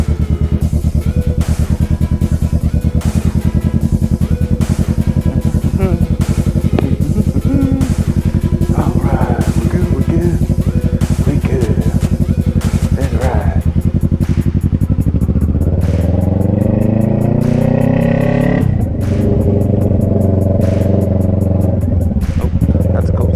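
A 2020 Kawasaki Z650 fitted with a Hindle full exhaust, flashed and tuned, being ridden: a steady loud engine drone with layered harmonics, then rising revs near the end as it accelerates, heard up close without talk.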